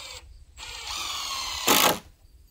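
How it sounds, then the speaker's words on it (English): A power drill driving screws into wood for a deer blind tower, a short whirring run that climbs in pitch, then a louder brief burst before stopping, close with no talking. "you can move over here to the other side and put your next 2 screws in"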